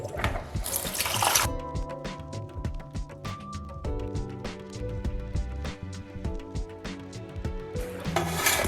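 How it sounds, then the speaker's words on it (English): Cabbage pieces are rinsed under running tap water in a kitchen, with a steady close rush of water, rubbing and handling noises, and louder splashing at the start and end. "and then rinse under running water."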